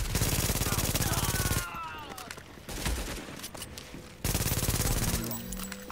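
Rapid gunfire bursts in the video game The Division, loud volleys at the start and end separated by a quieter stretch of scattered shots and game sounds, with talking over parts of it.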